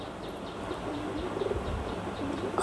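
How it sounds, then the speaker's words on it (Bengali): White Bombay pigeons kept as pets cooing in soft, repeated low calls close by, with faint chirps and a little wing flutter over a busy background. "আর এইদিকে দেখেন আমার সাদা বোম্বাই কবুতর"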